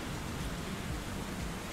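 Thunderstorm with heavy rain in the Stormworks video game, a dense continuous roar of rainfall with low rumbling underneath, steady and loud with no talk.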